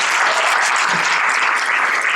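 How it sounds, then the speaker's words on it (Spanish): A church congregation applauds, a thick, continuous wash of many hands clapping at once, loud and close, holding steady without a break for the whole stretch. "¿Cuántos quieren dar un aplauso al Señor?"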